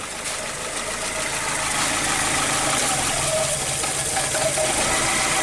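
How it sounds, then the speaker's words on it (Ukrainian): An Audi 80 engine idles steadily and close by, a continuous even rumble with a slight rhythmic knock, running alone without voices. "Отак має працювати двигун."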